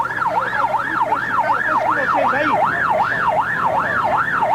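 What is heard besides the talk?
ambulance siren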